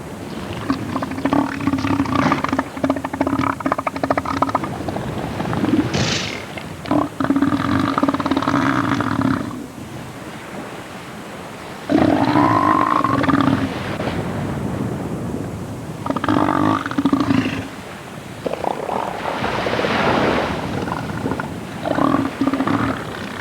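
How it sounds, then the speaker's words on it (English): A crowd of elephant seals on Sea Lion Island in the Falklands gives deep, rumbling roars and guttural bellows, dense and continuous, with wind noise and no speech. "What is it about a bunch of elephant seals that puts me in mind of Tommy Walsh in the morning?"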